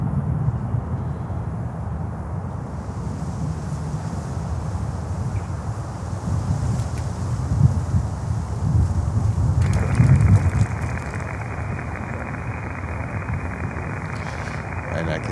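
A Boeing 747 and an American Airlines Airbus A319 approach an airport, giving a continuous broad engine roar mixed with wind buffeting that swells slightly toward the middle before settling.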